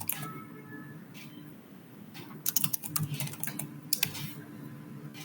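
Computer keyboard typing in short clustered bursts of keystrokes, faint and close, over a quiet room hum, with a pause before a denser run of clicks.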